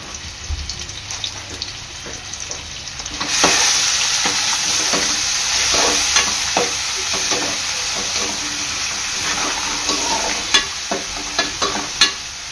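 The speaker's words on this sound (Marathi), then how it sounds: "आपला कांदा आहे ना चांगला मऊ होईपर्यंत शिजवून घ्यायचा आहे।" Onion frying in a pan with salt, cooked until soft for a clam curry: a steady close sizzle that swells louder after a few seconds, broken by frequent scraping clicks of stirring, with no talking.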